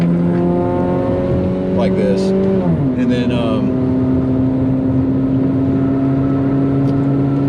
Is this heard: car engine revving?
yes